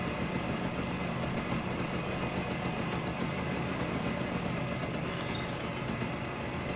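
A motorcycle engine runs steadily at a constant, even drone, close and fairly loud with no breaks or revving, and nobody speaks over it.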